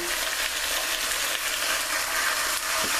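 Oxtails brown in a pot with seasoning, giving a steady, fairly quiet sizzle and hiss of frying with faint stirring underneath and no voices.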